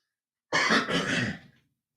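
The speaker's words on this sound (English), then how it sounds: "I'm going to go blow my nose real quick." A single loud, close nose blow, a forceful rushing burst of air lasting about a second after a moment of silence.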